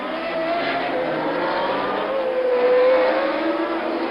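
Formula 1 race cars at the 1979 Long Beach Grand Prix street circuit, a steady high engine whine with a rising, sustained pitch as several cars battle closely, loud and continuous with no talk over it.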